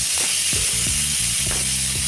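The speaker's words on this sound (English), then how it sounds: "We're adding our patties." Beef burger patties sizzle in a rip-roaringly hot, smoking pan, a steady loud hiss with clicking, scraping handling noises and no talk.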